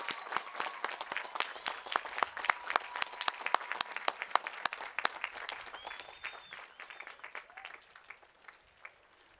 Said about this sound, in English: Graduates, would you please rise and applaud your family and your friends